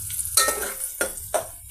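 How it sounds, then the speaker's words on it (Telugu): Onion pieces and green chillies frying in hot oil for a paneer and tomato curry, with a steady close sizzle broken by three louder stirring scrapes of a utensil in the pan, no voices. "ఈ పెద్దల్లిపాయ పీసెస్ని, పచ్చిమిర్చిని ఫ్రై చేద్దామండి ఆయిల్లో"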